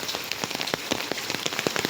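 Heavy rain falls in Kumbakonam, a dense, steady patter of drops hitting surfaces close by with no voices.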